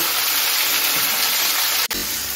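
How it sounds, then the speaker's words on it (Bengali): Potato and pumpkin pieces fry in hot oil for a Bengali pumpkin-potato chechki, giving a steady, loud, close sizzle that cuts out for a moment and then resumes. "1 মিনিট আমি আলু আর কুমড়োটা তেলের মধ্যে ভেজে নিচ্ছি।"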